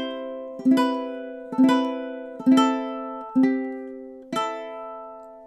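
Ukulele strumming measures 19 and 20 of a song, with five evenly spaced sharp chord strums, each ringing and fading before the next, played solo and close.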